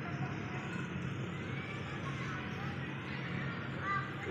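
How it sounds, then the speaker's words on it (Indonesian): Goats bleating at a zoo, a few wavering animal calls set back at moderate distance over a steady outdoor murmur, with faint voices in the background. "lihat mbek ini loh di kebun binatang"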